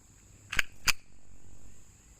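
A Baby Desert Eagle pistol loaded with steel-case Tula ammunition fires two sharp shots in quick succession, each a short crack, at an outdoor range.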